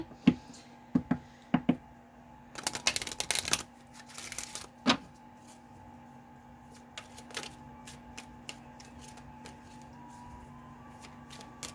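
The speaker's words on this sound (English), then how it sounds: "I'm going to shuffle these a little bit before I pull additional cards here." Tarot cards are shuffled in short crisp bursts, a riffling flurry in the middle, then scattered light taps and flicks against a faint steady hum.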